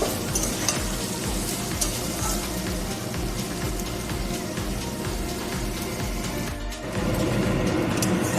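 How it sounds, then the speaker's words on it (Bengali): Potatoes and vegetables frying in fish oil, a loud, steady, dense sizzle and crackle that continues unbroken throughout, with occasional stirring noises. "ভালো করে মিক্স করে দিয়ে কিছু সময়ের জন্য ঢেকে ডেকে সেদ্ধ ফ্রাই করে নেব যাতে আলুগুলো সেদ্ধ হয়ে যায়"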